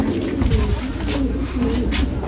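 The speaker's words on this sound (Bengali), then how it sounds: "এটা মাদি পায়রা।" Close, throaty cooing from Rampuri pigeons, a few rolling calls one after another over a low background hum.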